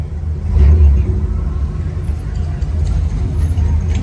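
Car engine revving at a large outdoor car show, a loud low rumble that swells early then settles into a steady throaty idle with faint crackle.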